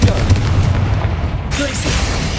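Confringo fire blast spell in the game Hogwarts Legacy, booming explosive bursts over dense rumbling combat noise, loud and close, with voices present.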